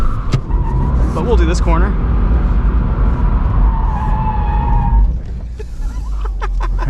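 2022 Subaru BRZ drifting on a tight track, with engine roar and tire noise at close range; the engine note climbs and warbles, then drops off near the end while people talk over it.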